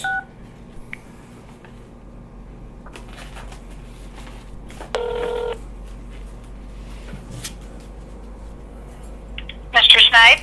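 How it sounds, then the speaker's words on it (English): Touch tones of a telephone number being dialed, heard as short key-press bursts, a cluster mid-way and another near the end, over a faint, steady background hum. "I'm dialing 313-235-0636."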